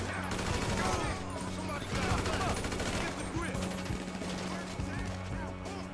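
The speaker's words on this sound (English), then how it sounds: "What are you shooting at, Franklin?" Gunfire in Grand Theft Auto V, with rapid, dense bursts of automatic shots and scattered single cracks overlapping continuously, loud and close, while voices talk underneath.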